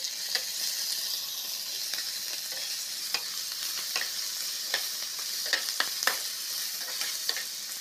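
Garlic, onion and lemongrass fry in a pan with a steady, close sizzle, broken by scattered sharp clicks and scrapes from stirring throughout.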